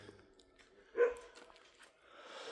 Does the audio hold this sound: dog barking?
yes